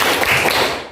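An Indonesian science class claps the rhythmic Tepuk IPA cheer together: a brief, loud, close burst of many hands slapping in quick pulses.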